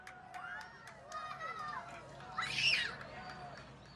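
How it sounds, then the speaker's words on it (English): An outdoor crowd cheering and whooping as a total solar eclipse reaches totality, a distant swell of scattered shouts and whistles that rises toward the middle. "the crowd's starting to cheer here"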